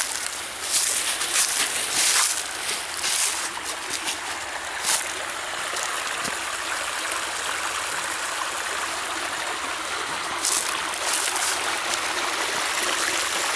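Clear water of Cane Creek in Cherokee County, South Carolina flows in a steady, broad hiss and rush, with small splashes and bubbling close by and no talking.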